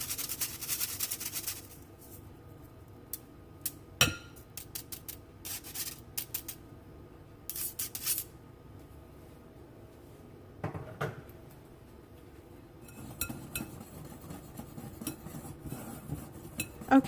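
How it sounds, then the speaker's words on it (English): Dry cake batter ingredients, flour with salt and baking powder, sifted through a metal mesh sieve and mixed, giving soft scraping and rubbing with sharp clinks of a utensil against the bowl, coming and going in short bursts. "I'm going to sift this through my mesh sieve and give it a good mix"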